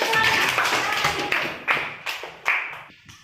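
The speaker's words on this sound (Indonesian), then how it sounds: "tepuk tangan dulu buat" Children clapping in a classroom lesson, opening as a dense, close flurry of claps that thins into a few separate, sharp bursts with brief gaps before fading out.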